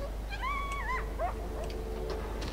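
In the video game Far Cry 4, a dog lets out a few high, wavering whimpers and whines, faint against a low game background hum.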